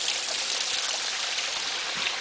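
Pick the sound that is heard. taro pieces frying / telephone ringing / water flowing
water flowing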